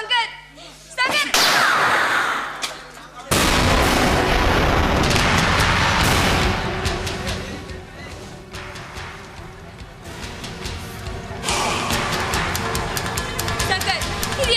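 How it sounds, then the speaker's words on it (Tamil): Gunshots in a Tamil village stage drama ring out as loud, sharp bangs, with a burst of several cracks early on and later shots among shouting and dramatic talk over a busy, echoing stage. "எதுக்கு நீங்க அவளை சுட்டீங்க?"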